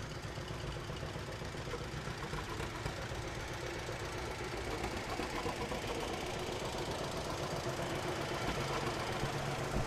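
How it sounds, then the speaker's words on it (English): A John Deere A tractor engine runs in a Fourth of July parade with a steady, close, knocking chug that continues throughout. "He's got a John Deere A."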